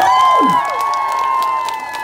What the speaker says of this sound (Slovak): Tak privítajme našich súťažiacich potleskom, poďte, potlesk.